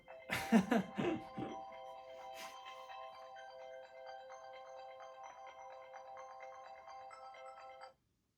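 A phone rings with a steady electronic tone for several seconds after a short burst of talking, then cuts off abruptly.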